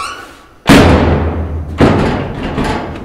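A car door slams shut twice, each a heavy, close thud with a short ringing decay, about a second apart.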